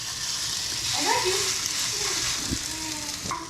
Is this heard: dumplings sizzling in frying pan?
yes